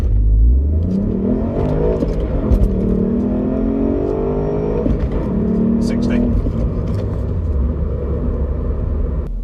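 A 2019 Ford Fiesta ST-3 makes a launch-control start, its engine held near 3,000 RPM, then revving and pulling hard through the gears with a steady loud rumble and rising whine, heard from inside the car.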